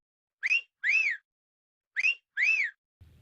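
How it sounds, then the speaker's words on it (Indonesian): A person whistles through pursed lips in two paired bursts, each a short rising note followed by a longer arched tone, clear and close with silence between them. "Whistle artinya membuat suara dengan meniupkan udara melalui bibir."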